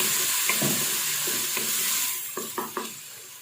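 Garlic and green chilies sizzle in hot oil in a pan for dal tadka, a steady bright frying hiss broken by several sharp scraping stirs of a spoon near the end.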